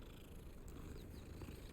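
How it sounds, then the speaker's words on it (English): A calico cat purrs as it is petted in the video game Hogwarts Legacy, making a faint, steady, low rumbling purr with no talking. "It's purring. Oh, it's a calico."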